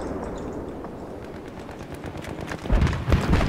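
Gunfire in Battlefield 3 multiplayer combat, a continuous distant rattle of automatic weapons that swells into heavier, louder bursts toward the end, with no talk over it.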